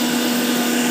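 A mixer grinder whirs loudly and steadily up close while grinding henna into a fine paste, a constant motor hum with a strong tonal drone and no voices.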